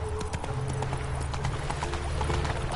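Hooves of the horse Roach from The Witcher 3 clatter in a fast, rhythmic gallop, loud and close, with a faint snort blended into the pounding beat.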